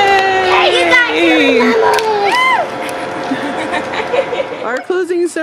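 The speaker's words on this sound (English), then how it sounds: "Cheer for each other!" A family cheers and whoops together at a backyard summer Olympics closing ceremony, with excited children's shouts, laughter and high voices overlapping, loud and close throughout.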